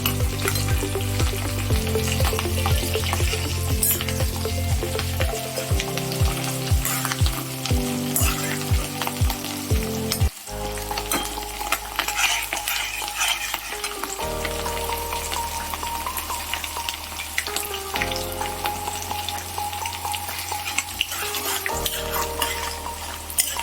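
Green chilies and cumin seeds sputter in hot oil for a pulihora mango pickle tempering, a close, continuous sizzle broken by repeated scraping stirs, with a tonal hum underneath.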